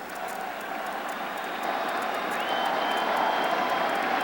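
A crowd of over 57,000 at Yankee Stadium during a 1996 playoff baseball game, a broad distant roar of cheering and applause that swells louder toward the end.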